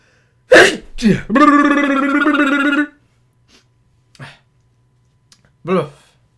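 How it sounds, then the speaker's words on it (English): A sharp, explosive sneeze bursts out close by, followed by a drawn-out strained vocal sound and a few softer breaths and noises. "I gotta sneeze in a minute."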